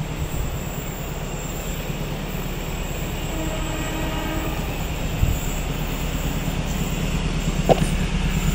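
A steady, low rumbling of a train passing close by on the Cisomang railway bridge in Purwakarta, continuous throughout with a faint rattle and a couple of clanks.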